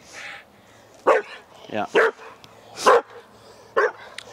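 A fearful dog barks in several sharp, separate bursts while on a walk outdoors, fairly close and loud, with a person speaking briefly between barks.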